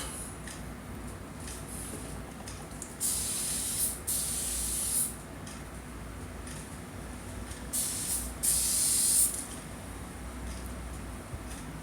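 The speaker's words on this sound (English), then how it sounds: "this is just two old wigs I sort of just put together and sprayed them" Hairspray sprayed onto two old wigs in short bursts, four distinct hissing sprays of about a second each separated by quiet pauses.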